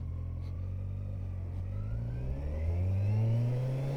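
Car engine driving twisty Luxembourg roads, a mid-pitched drone climbing steadily as the car accelerates, close and continuous with a low rumble underneath.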